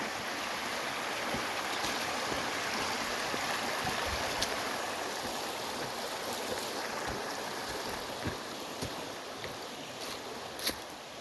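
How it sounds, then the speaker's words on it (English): A creek on the Flume Lower trail in the Magalia greenbelt flows steadily, a dense continuous rush of water with occasional small splashes and no voices. "You still get a good view of the creek"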